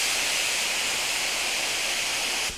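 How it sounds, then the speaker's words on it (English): A paint spray gun loaded with a little paint thinner is triggered to test its fan before priming a plastic bumper. It gives a steady, close hiss of air and mist that cuts off abruptly near the end. "I drop just a little bit of paint thinner in the cup and pull the trigger just to make sure that my fan is nice and even."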